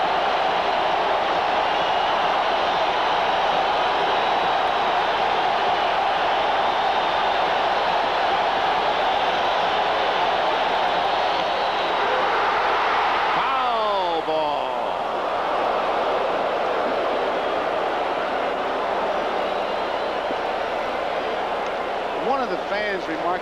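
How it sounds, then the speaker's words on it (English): A big stadium crowd roars steadily at a 1982 World Series game in Milwaukee, a loud sustained wash of cheering that swells and shifts midway, with no break in the noise. "Listen to this crowd. They want a big one."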